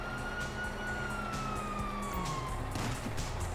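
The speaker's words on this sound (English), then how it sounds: "You hear that? Sirens!" A police siren in Grand Theft Auto V wails in the distance, its pitch sliding slowly downward beneath a steady hum of background noise.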